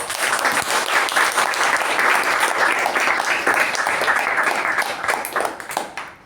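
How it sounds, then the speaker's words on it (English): A big round of applause from the audience at a Toastmasters club meeting, loud, dense clapping that holds steady for several seconds before starting to thin out near the end. "Let's give him a huge round of applause"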